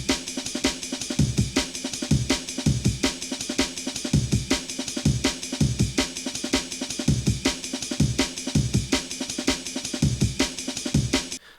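A sliced jungle drum break, rearranged with kick, snare and shuffle hits on an Ableton Push 2 in Ableton Live, loops as a fast, steady, loud breakbeat with no voices over it.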